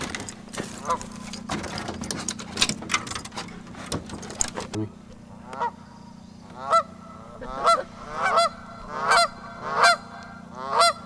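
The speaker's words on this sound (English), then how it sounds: "Go get those geese." Geese honk repeatedly in loud, rhythmic calls, preceded by scuffling and splashing noises; a voice is heard briefly.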